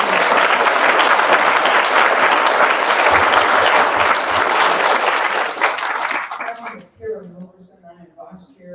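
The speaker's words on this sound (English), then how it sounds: "Can we have another round of applause?" Audience at a political party candidate forum in Lubbock, Texas, claps in a loud, sustained round for several seconds, then it abruptly drops away and a voice begins speaking over the quiet room.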